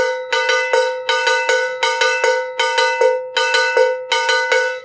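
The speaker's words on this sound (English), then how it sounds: "kind of in the center of the cowbell" A cowbell struck in the center with a beater in a steady repeating pattern, bright metallic clanks in groups of three, close and loud with short ringing decay.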